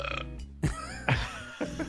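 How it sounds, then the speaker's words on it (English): Cartoon burp sound effect from The Simpsons: several short, low, croaking belches in quick succession, close and fairly loud, with no speech over them. "Was that the guy burping?"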